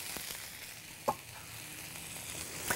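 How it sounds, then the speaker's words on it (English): Mushrooms sizzle in butter in a pan after beef braciola has browned, a soft steady hiss close by with a couple of brief clicks of stirring. "Set my mushrooms right down into that butter."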